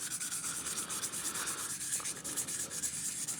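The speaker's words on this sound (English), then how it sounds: "The pipe is extremely smooth after you sand with these fine grits." Fine-grit sandpaper rubs over a vintage pipe in quick, even back-and-forth strokes, a soft close-up scratching that pulses steadily and stays faint throughout.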